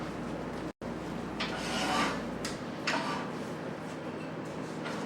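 Steady rubbing rasp of sandpaper against a wood-turned kaleidoscope body on a lathe in a home workshop, continuous and close, swelling slightly in places and briefly cutting out near the start.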